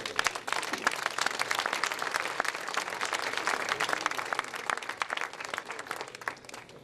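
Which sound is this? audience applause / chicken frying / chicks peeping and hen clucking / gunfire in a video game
audience applause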